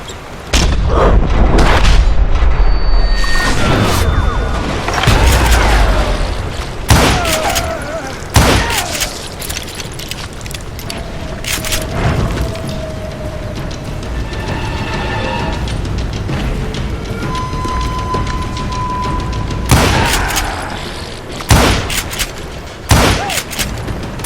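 Call of Juarez Gunslinger game audio with loud, repeated gunshots and booming explosions in sharp bursts across a noisy battle, with a narrator speaking in between.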